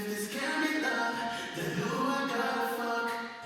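Vocal passage drenched in a Chambers vocal chamber reverb preset with a 1.6-second tail, sustained and continuous with a smooth diffuse wash filling the gaps.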